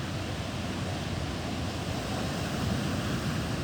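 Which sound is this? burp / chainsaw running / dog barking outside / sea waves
sea waves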